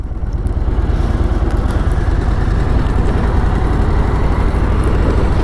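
A motorcycle is ridden on suburban roads, its engine a loud, close, steady rumble with a fast, even pulse that holds for several seconds with no talk.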